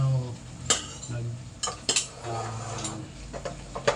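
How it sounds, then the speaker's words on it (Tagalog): A spoon stirs chicken tinola soup in a pot, giving scattered metallic clinks and scrapes against the pot at irregular intervals, close and fairly quiet. "haluin natin para lumasa ng gusto"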